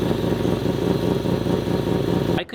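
A three-rotor rotary engine idles around 1600 RPM with a massive intake leak, a loud, lumpy, burbling drone with choppy pulses that holds steady before cutting off abruptly near the end.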